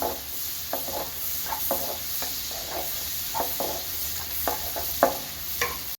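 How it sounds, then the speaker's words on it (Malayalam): Red onion sautéing in butter in a pan for pasta: a soft frying hiss under repeated scraping stirring strokes, irregular and close. "ചുവപ്പ് സവാള നന്നായിട്ട് ഇതിൽ ഇട്ട് കൊടുത്തിട്ട് നന്നായിട്ട് വഴ വഴന്ന് കിട്ടണം"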